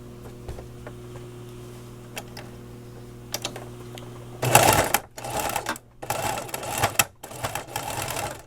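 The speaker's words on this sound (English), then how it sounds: "Now I'm gonna stitch that across on both sides." A sewing machine runs stitches across a fabric headband with a quarter-inch seam allowance, loud close whirring bursts separated by brief pauses, after a quieter stretch of faint ticks and hum.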